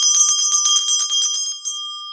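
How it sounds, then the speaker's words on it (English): A sacral chakra bell rings with rapid repeated strikes, bright sustained metallic tones that ring on and slowly fade, loud and alone. "That's my sacral chakra bell."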